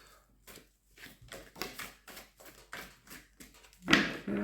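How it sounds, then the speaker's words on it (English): A deck of cards is shuffled by hand in a quiet room for a card reading, producing a series of short papery riffles and slaps in an irregular rhythm, close and fairly soft, ending in a sharper snap. "Shuffle until I'm told to stop."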